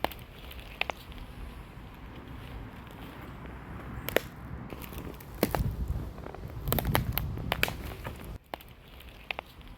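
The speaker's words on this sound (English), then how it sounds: "This is the sound of sticks breaking as we walk across the forest floor." Footsteps across a forest floor snap and crunch sticks underfoot, a series of irregular sharp cracks over soft rustling, several clustered loud breaks midway, close and without talk.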